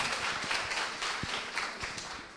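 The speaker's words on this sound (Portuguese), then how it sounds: "a salva de palmas para a Vanessa, pessoal" An audience applauds a speaker named Vanessa after her talk at a conference, steady clapping from a crowd filling the room throughout.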